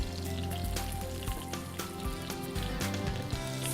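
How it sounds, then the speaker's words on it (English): Mustard seeds, curry leaves and green chilies sizzle and spit in hot oil, a dense continuous crackle with scattered sharp pops, close and fairly quiet. "Once the mustard seeds splatter, I'm going to add in my curry leaves"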